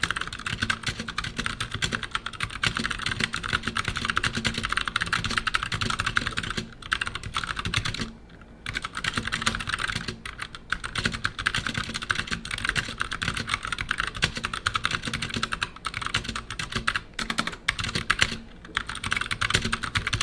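Continuous rapid clacking of a STOGA MK22 compact mechanical keyboard being typed on, close and steady, with only a couple of brief pauses.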